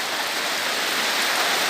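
A steady downpour drenches a Bangladeshi village, producing a loud, unbroken wash of rain hiss up close with nothing else heard.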